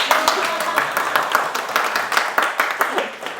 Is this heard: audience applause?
yes